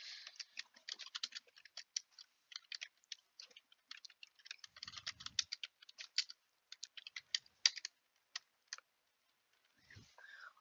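Quick, light clatter of typing on a computer keyboard, in uneven bursts of crisp keystrokes with short pauses, fairly close and quiet, with a brief soft voice near the end.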